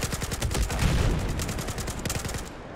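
Rapid gunfire from the video game Battlefield 4, a dense string of sharp shots in quick bursts lasting the whole stretch, loud and close with no talk over it.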